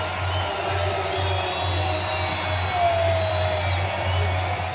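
A baseball crowd of tens of thousands at a New York Mets game against the San Diego Padres rises and cheers in the ninth inning, a steady distant roar with whoops, under a low hum.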